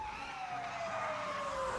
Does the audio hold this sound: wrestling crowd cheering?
no